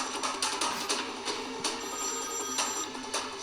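A mobile phone rings with a steady electronic ringtone in repeating bursts over a busy background, heard in a tense Hindi film scene involving police and vehicles.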